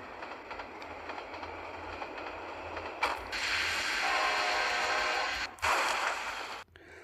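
Train running in the mobile game Train Ramp Jumping: a steady rumbling rail noise swells partway through into a louder, brighter rush with a brief cut and a final drop-off, with no talk over it.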